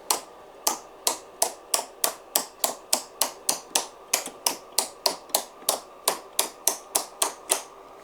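Relays and solenoid valves wired to a 25-key keyboard click in a fast, even series of about two dozen sharp, close mechanical snaps, with no talking.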